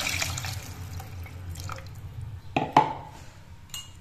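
Water poured into a cooking pot over oil and browned ingredients while preparing chicken and chickpeas, a short splashing pour with a sharp drip and sizzle, close and moderately loud.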